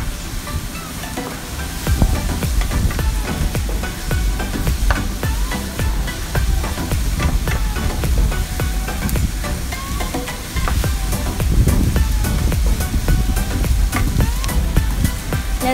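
Chopped ginger and green chilli sautéing in a pan for a clam meat cutlet, giving a steady, fairly loud sizzle with intermittent stirring scrapes throughout, no talking.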